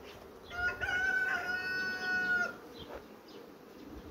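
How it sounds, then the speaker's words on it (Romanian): A rooster crows once outdoors beside beehives, a clear mid-distance call lasting about two seconds over a faint background buzz of bees. "Iar a venit cocoșul ăsta"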